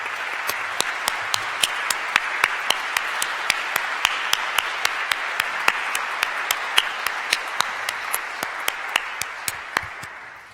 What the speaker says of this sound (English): Could the 4 of you just stand so we can applaud you?